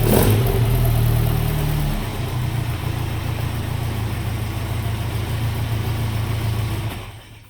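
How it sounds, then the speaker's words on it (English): Car engine with a 20-valve blacktop and quad throttle trumpets, from a 1965 Ford GT Cortina restoration, revs hard for two seconds then settles into a steady loud idle-to-mid drone that cuts off near the end. "20 valve black top, quad throttle trumpets on it."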